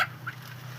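A brief, faint cluck from an egg-laden hen at a village poultry seller's, one short call over a steady low background hum.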